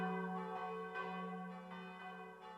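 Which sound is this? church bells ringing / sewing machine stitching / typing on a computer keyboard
church bells ringing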